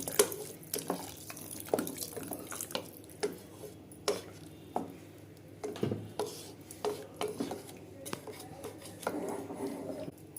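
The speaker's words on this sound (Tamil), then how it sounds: "இந்த கிரேவிக்கு தேவையான தண்ணி ஊற்றுறோம்" Water trickling and splashing into a pot of spinach gravy, with intermittent clinks of a utensil against metal and soft stirring sounds, fairly close.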